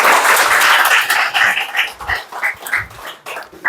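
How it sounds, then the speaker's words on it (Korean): A round of audience applause at a book concert, loud at first and thinning into scattered claps as it fades toward the end. "박수 부탁드립니다."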